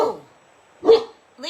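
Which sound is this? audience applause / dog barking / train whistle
dog barking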